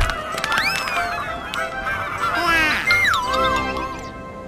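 Geese honking in a video game, several loud nasal calls rising and falling close by, overlapping one another in a noisy outdoor scene.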